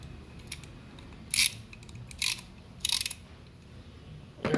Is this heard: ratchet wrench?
yes